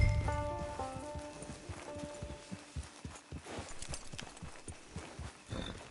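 Horse hooves clip-clop at a steady walking rhythm in the Western video game Red Dead Online, close and clear, with a brief musical tone at the start and no talking.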